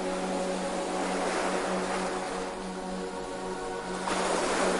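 Gentle sea waves wash onto a beach as a continuous, close, even roar with a soft swell and a slight surge toward the end, accompanied by a faint steady hum.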